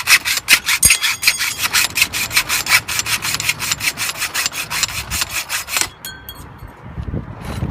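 A hand hacksaw cuts 2-inch helical Brugg Secon-X pipe in fast, steady, rasping back-and-forth strokes up close, then stops abruptly, leaving a few light knocks.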